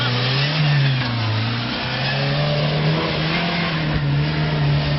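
Jeep engine straining up a steep dirt hill holds a loud, steady revving drone with slight pitch wavers, continuous and close for the whole stretch.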